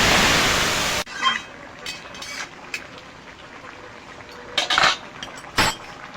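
Cabbage curry with a cumin tempering in hot oil opens with a loud burst of sizzling for about a second, then settles into a low hiss with scattered spoon clinks and scrapes against the pan.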